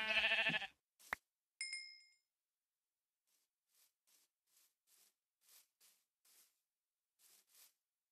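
Sheep in the Minecraft video game bleat once near the start, followed by a short clink and a series of faint, evenly spaced soft game sound effects in otherwise near-silence.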